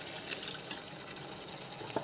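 Hot water is poured into a surmai fish curry masala being made into gravy, giving a soft, continuous liquid trickle and splash at close range.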